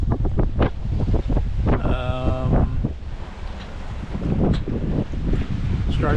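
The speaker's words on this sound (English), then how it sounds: "the wind all but died, so we motor sailed a little while, and it's filled back in out of a sailable direction" Wind while sailing on Lake Superior, a steady gusty rush with buffeting on the microphone and washing water beneath it, near and fairly loud throughout.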